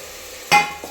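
Okra drops into a pan of roasted tomato with a sudden loud sizzle that hisses on, then a smaller second sizzle follows, close and with no talking.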